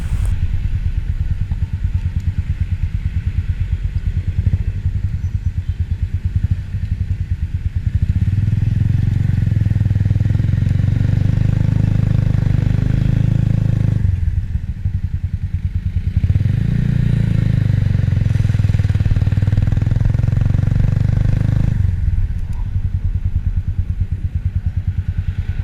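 A modified Keeway CR152 cafe racer motorcycle runs steadily nearby, its engine chugging at idle and swelling into heavier revs twice in the middle before settling back to a steady putter.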